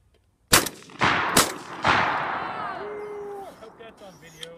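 Shotgun blasts at clay pigeons on an outdoor skeet range, three sharp, loud reports in quick succession, each trailing into a long echoing decay, followed by quiet outdoor ambience.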